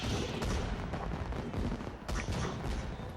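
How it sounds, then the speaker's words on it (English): Dense, continuous crackling bursts of fireworks in the San Francisco level of the video game Indiana Jones and the Staff of Kings, a steady loud barrage with no pauses and no talk. "Fireworks."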